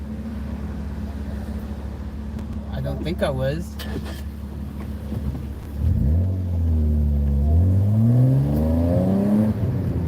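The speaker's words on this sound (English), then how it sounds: "This car sounds faster than what it really is" Car engine while driving, a low rumble that swells into rising and falling revs in the second half, with someone talking over it.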